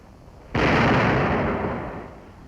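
A single loud round fired from a World War 2 tank destroyer, a sudden sharp blast followed by a broad rumbling roar that slowly decays over the next two seconds.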